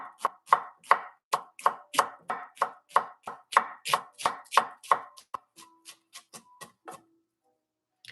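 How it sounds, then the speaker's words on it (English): A knife chops onion on a cutting board for homemade spring rolls. About seventeen crisp, evenly spaced chops sound up close, then stop, leaving a few faint taps and quiet. "Chopping."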